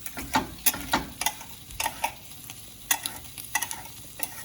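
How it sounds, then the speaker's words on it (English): Roasted tomatoes are chopped loosely in a pan with two butter knives, making a series of sharp, irregular clicks and scrapes against the pan, close and moderately loud, over a faint sizzling background with no talk. "All I'm gonna do is just kind of cut them up with 2 butter knives, kind of chop them up loosely."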